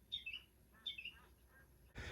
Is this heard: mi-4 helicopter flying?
no